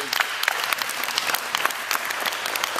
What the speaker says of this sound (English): give Alex a round of applause, please.